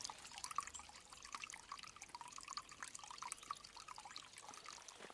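Water runs through a canal sluice, a steady, moderately faint rushing trickle that carries on evenly for the whole stretch.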